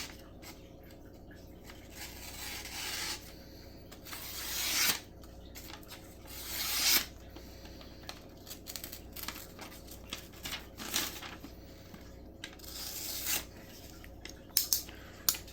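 A super sharp EDC folding knife slicing through very thin paper, giving several quiet rasping, scraping strokes in bursts with short pauses between them, close to the microphone and with no talking.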